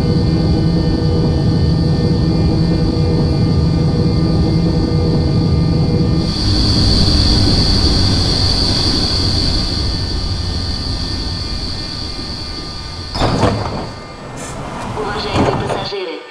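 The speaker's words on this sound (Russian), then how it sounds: "поезд отправляется." Metro train in a Minecraft mod pulling away from a station, a loud steady rumble and hum with a high whine rising as it departs, then clanks and rattles near the end.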